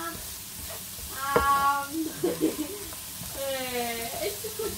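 Ingredients for a Québec pâté chinois sauté in a pan with coarse salt, a soft sizzle and stirring scrapes running under voices, with someone speaking partway through.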